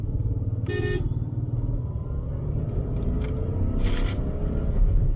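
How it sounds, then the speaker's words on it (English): Heard from inside, a Nissan Magnite's 1.0 turbo petrol engine drones low and steady under full throttle, with road rumble, a brief horn toot from traffic and a couple of faint high chirps. "Now we'll give some full accelerator, a little bit of power."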